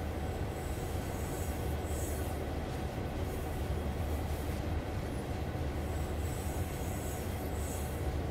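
A train rolls past in the Train Sim game on the Clinchfield Railroad with an F7 locomotive, a dense, steady roar of wheels and cars, loud and continuous, with faint squealing on top.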